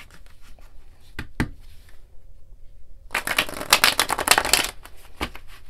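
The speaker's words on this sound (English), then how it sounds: "I'm going to shuffle out 7 cards for each day of the week." Tarot cards being shuffled up close: a few sharp riffles and taps, then a dense burst of rapid fluttering shuffles, with no talking.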